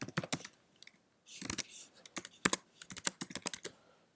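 Someone types an address on a computer keyboard, crisp close key clicks in quick irregular bursts, a dense cluster around a pause, then a fast run of taps.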